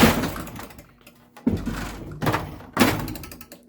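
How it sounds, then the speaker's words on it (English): An AC/DC Pro Pinball cannon fires three sharp mechanical thunks at roughly even intervals, each a close, hard knock followed by a brief rattle and quiet gaps between. "I may be able to fire my cannon off for the first time"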